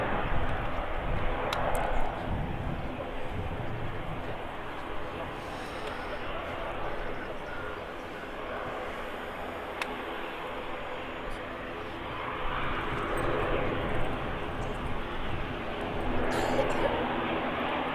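An ATR turboprop airliner in Eastern livery at Manchester Airport gives off a broad, rushing engine roar that swells and fades over time, with people talking nearby.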